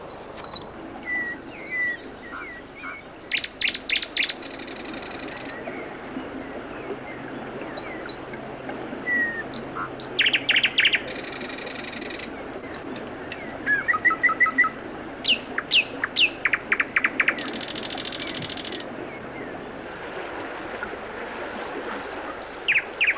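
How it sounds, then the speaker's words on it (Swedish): A nightingale sings in a forest with bursts of rapid repeated notes and clear whistled phrases, fairly near, over a constant bed of insect chirring. "Näktergalen fortsatte att underhålla oss"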